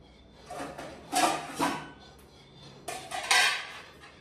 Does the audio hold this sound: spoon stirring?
yes